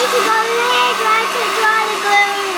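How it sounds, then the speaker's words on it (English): A household hair dryer blows on wet glue, its steady whining motor tone wavering slightly as it is moved. The drone runs loud and close throughout, with faint voices in the background. "drying the glue with the hairdryer"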